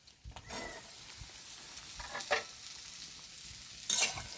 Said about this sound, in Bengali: গাজরটাকে খুব ভালো করে ভেজে নেব